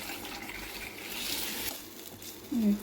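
Tamarind broth (pulusu) pours from a vessel into a pot of bottle gourd dal with a steady, soft liquid gush close by. A short rising tonal sound comes near the end.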